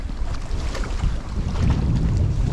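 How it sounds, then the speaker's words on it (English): Strong wind roars steadily across the microphone on a riverbank during winter catfish bank fishing, a continuous loud low rumble with gusty buffeting and no talk. "Man, it's so windy today."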